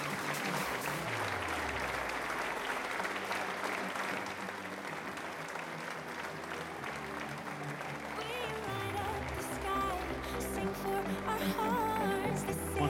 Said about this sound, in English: continue clapping, ladies and gentlemen